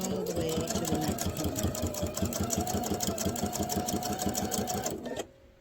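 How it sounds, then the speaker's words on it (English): A sewing machine stitching a quilted star heart table runner, a steady close rapid mechanical whirring and needle chatter that runs continuously for several seconds before stopping abruptly. "And I'm going to sew all the way to the next"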